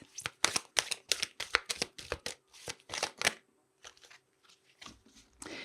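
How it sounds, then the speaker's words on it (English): Tarot affirmation cards are shuffled and pulled by hand in quick, close bursts of papery riffling and slapping, with a few quieter card flicks after a short pause. "So let's pull an affirmation card for you here"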